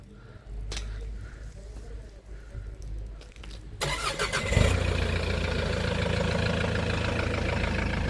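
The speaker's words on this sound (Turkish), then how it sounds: "Araç çalıştı." Remote start of a 2006 Kia Sorento: after a quiet stretch with a few faint clicks and brief voices, the engine cranks and catches with a loud surge, then settles into a steady idle heard from nearby.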